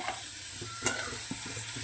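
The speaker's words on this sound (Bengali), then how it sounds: "যে ঘিটা রয়েছে তার মধ্যে আমি এই চালগুলো দিয়ে দেবো" Rice grains being stirred into hot ghee left from frying cashews and raisins for keshari payesh, a soft steady sizzle with scraping stir strokes and small clinks.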